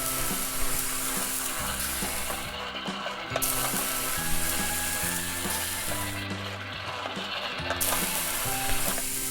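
A Play-Doh Paw Patrol toy stovetop makes a continuous electronic sizzling hiss as a play hamburger cooks, steady and fairly loud with a couple of brief dips in the hiss.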